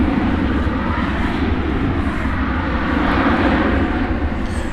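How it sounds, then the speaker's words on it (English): American Airlines Airbus A321 departing Dallas–Fort Worth airport, a loud, continuous jet roar that swells slightly and stays close and unbroken for the whole stretch. "It's an Airbus A321 off now to the city adjacent to the bay, San Francisco."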